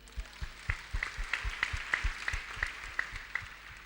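A small church audience claps in a steady, even rhythm of about a dozen claps, moderately close and fairly quiet.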